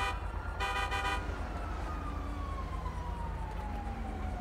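A police car siren wails in GTA 5, a steady rising and falling tone over constant traffic and engine rumble, moderately close, with a brief harsher horn-like blast early on.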